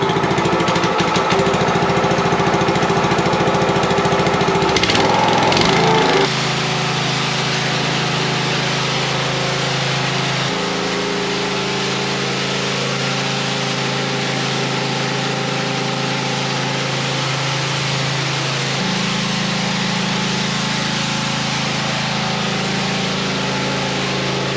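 A pressure washer's engine runs steadily on a back patio, a loud, continuous drone with a rougher, busier stretch in the first few seconds before it settles into an even hum, with no talking.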